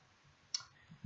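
A single sharp computer mouse right-click while working in AutoCAD's block editor, heard once, close and isolated against a quiet background.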